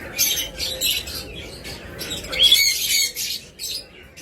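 Sun conure parrots give harsh, shrill squawks and chirps in short, loud bursts close at hand, with a few scattered calls and louder clustered squawking in the middle.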